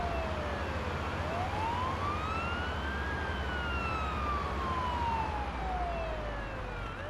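A video game ambulance siren wails, rising and falling slowly over a steady low engine rumble, continuous and moderately loud, with no voices.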